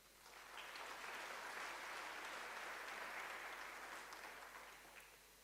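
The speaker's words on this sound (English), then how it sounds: "Another warm round of applause for you for being here today." An audience at a conversation event with former president Thabo Mbeki breaks into warm applause, a dense, even crackle of many hands that swells quickly, holds steady and tapers slightly at the end, heard alone without talk.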